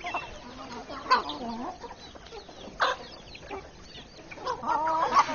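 Chickens cluck on a farm in a steady, moderately close chorus, with a few louder calls and a rooster-like voice rising in places.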